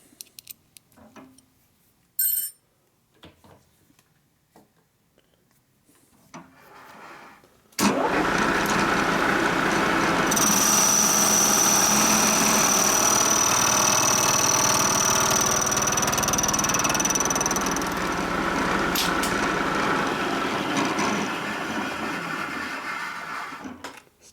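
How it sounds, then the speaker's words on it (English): After faint scattered knocks, a milling machine motor kicks in loudly and runs steadily, with a rattling, shaking vibration from unbalanced weight layered over the hum. "Starting to get out of balance with all this weight over here. Hear the mill shaking."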